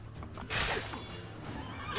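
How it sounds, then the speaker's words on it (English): A horse neighs in Assassin's Creed: Brotherhood, a clear whinny rising over the steady game soundtrack and swelling twice during the short stretch. "Don't you fucking dare get back on that horse."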